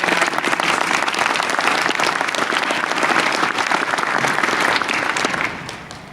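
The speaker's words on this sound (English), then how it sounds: "please let's give a very big round of applause to all our volunteers" Audience at the SIGGRAPH 2024 opening session gives volunteers a big round of applause: dense, sustained clapping from a large crowd that holds steady before tapering off near the end.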